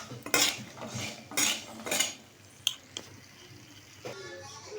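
Cashews being tossed with salt and pepper powder in a metal bowl, giving a few loud clinking and scraping bursts of utensil against dish, with quieter rattles between.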